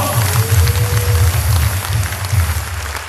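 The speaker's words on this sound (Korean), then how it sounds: "여러분, 우리 목사님께 큰 박수 부탁드립니다" A large audience applauds at a patriotic rally in a convention hall at the 63 Building in Seoul. The clapping is a dense, steady wash of noise over a low rhythmic rumble, loud throughout with no talk.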